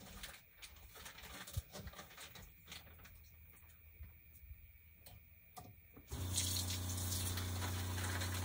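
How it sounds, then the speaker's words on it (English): Frozen chicken hearts rinsed under running tap water, soft handling clatter at first, then a steady, louder gush of water from the faucet for the last couple of seconds, with no speech. "we are going to rinse them all off"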